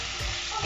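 Dried mutete (roselle) leaves with onions and stock cube being stirred in a frying pan, a brief steady sizzle with soft scraping, no talking.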